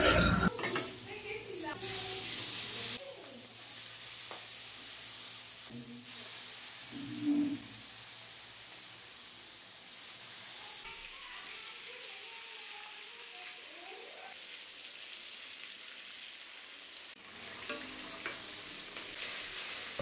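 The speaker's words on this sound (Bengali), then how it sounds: "মাছটা ভাজা হোক" Pieces of hilsa fish frying in hot oil, a steady sizzle with occasional stirring clinks and spatula scrapes against the pan, heard close with some background noise.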